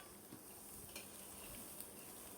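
Rice frying lightly in oil with bay leaf and cinnamon, a faint, steady sizzle with a few soft stirring scrapes, quiet and close, no voices.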